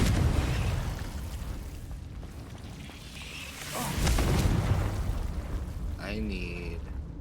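The Confringo fire spell explodes in Hogwarts Legacy on PS4: a broad booming burst with a rushing whoosh, followed by a rising magical chime near the end, loud and with no voice over it.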